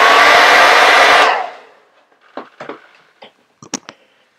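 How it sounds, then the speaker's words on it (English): A hair dryer used to set paint on a miniature blows loudly for just over a second, then cuts off, followed by a few faint clicks and knocks. "Set it with a hairdryer again."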